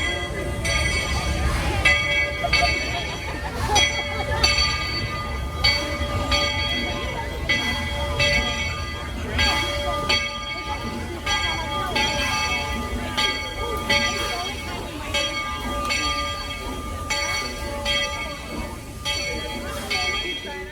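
A train at Disney World rumbles steadily past with a bell clanging in repeated rings and a horn sounding over it, voices of a crowd faintly underneath.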